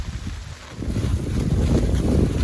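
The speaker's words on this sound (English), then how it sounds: "It's super windy, but freezing, 32 degrees," Strong, gusty wind buffets the microphone on a freezing, rainy winter morning along the Superior Hiking Trail, a loud continuous low rumble swelling and easing with no talking.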